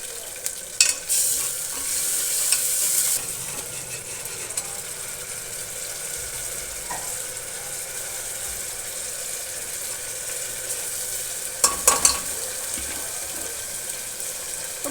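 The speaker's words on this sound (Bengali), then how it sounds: "এবার এই মশলাটা একটু আমি কষিয়ে নেব।" Spice masala with green chillies fries in a pan, a constant soft sizzle with a spatula stirring and scraping now and then, plus a few louder clanks, and no talk.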